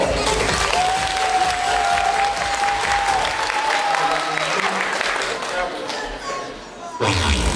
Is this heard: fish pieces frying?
no